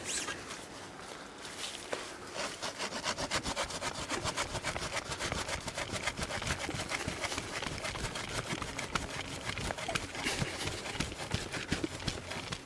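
Steady back-and-forth sawing through wood with the saw edge of a NEXTOOL KT5524 Frigate spade, a continuous rasping rhythm of fast strokes, close and loud throughout.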